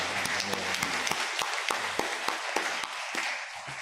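Applause from a church congregation during a Korean worship service, mixed with some voices, steady clapping of moderate loudness with a few sharper claps standing out.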